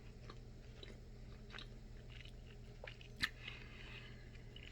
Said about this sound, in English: I'm trying to finish chewing for once